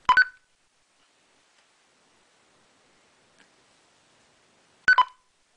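Two short electronic keypad beeps from an EF Johnson 5300 radio, crisp and close, several seconds apart, with near silence in between.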